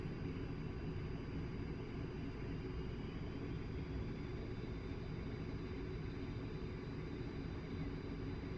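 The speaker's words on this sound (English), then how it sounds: "Now let's accelerate by advancing the throttles back to max." A-10C Warthog's twin jet engines at maximum throttle in DCS World, a steady, dense, loud roar with a faint high whine, continuous and unbroken with no voices.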